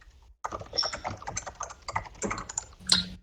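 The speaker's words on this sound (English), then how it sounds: "Your keyboard's really loud." Loud clacking of a computer keyboard during an online community call, rapid irregular keystrokes coming close to the microphone after a brief quiet start, with no talking over them.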